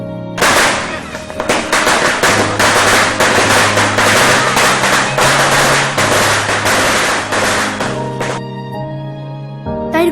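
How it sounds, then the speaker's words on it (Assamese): Firecrackers burst on Diwali night in a loud, dense, rapid barrage of cracks and pops that runs almost continuously for several seconds before trailing off. "ফটকাবোৰ বেছিকৈ ফুটে।"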